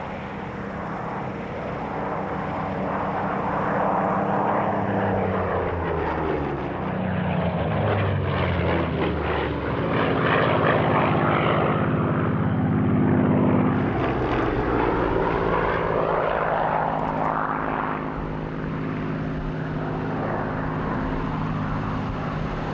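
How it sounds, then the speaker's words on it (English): Supermarine Spitfire Mark II and Mark V fighters displaying at a 1996 Duxford airshow: a loud, sustained piston-engine drone that swells and shifts in pitch as the planes pass, continuous with no talk. "Next to display are the Spitfires, Mark II and Mark V of the BBMF."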